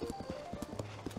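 Horse hooves clip-clop in a quick, regular galloping rhythm in Zelda: Tears of the Kingdom, close and steady, with a faint tonal game sound running underneath.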